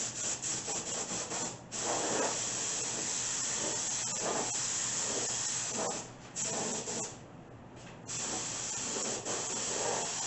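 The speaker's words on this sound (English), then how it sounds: "you have to apply PVA or polyvinyl alcohol as the final release agent" PVA polyvinyl alcohol release agent is sprayed onto a nose bowl mold in continuous close hissing bursts with brief pauses between passes, and no talking.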